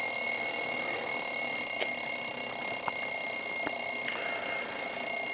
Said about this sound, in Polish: Tu powinien, powinno być słychać dźwięk budzika.